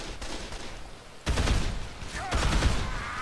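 Gunfire in the zombie video game Dead Island, dense bursts of shots in two loud stretches over a noisy game background, without speech.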